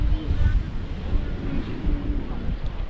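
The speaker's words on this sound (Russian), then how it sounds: "Сегодня ветрено." Wind blowing at the beach on Sal island, Cape Verde, a rough, steady rumbling gust buffeting the microphone, with surf-like wash in the background and some talk.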